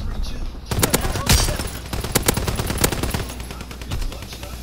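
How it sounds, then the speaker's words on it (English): Rapid shotgun blasts from a first-person video game battle, a burst of sharp broadband reports, several close together then scattered, loud and up front, with a voice talking over parts of the firing. "Fucking shotgun."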